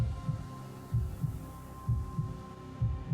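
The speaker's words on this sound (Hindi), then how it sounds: "जो बस उनके दिल की धड़कन की आवाज से टूट रही थी।" Heartbeat sound effect in a haunting tale, a slow, deep double-thump repeating steadily about once a second over a low hum, close and alone with no talk.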